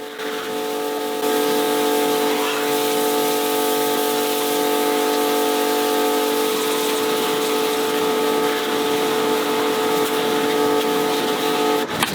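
High-pressure water spray rinsing the wheel arch of a very grubby BMW 1 Series with the wheels off, a steady loud hiss running the whole time over a constant tonal whine from the pressure washer.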